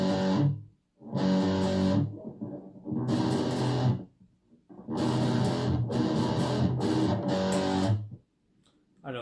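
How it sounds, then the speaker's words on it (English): Dry electric guitar chords strummed in bursts with short pauses between, close and clear with no audible reverb tail. "So I pretty much run pretty dry when it comes to effects."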